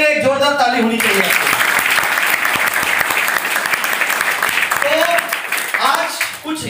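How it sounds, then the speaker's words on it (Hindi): A seminar audience at a network marketing business training gives loud, dense applause for its leaders, sustained for several seconds, with a voice speaking just before and again as the clapping fades. "तो ऐसे सभी गुरु के लिए एक जोरदार ताली होनी चाहिए।"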